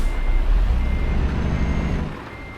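Truck engine in Euro Truck Simulator 2 idling with a steady low rumble after starting, while a high reversing-style beep tone runs continuously over it for about two seconds before the engine noise drops.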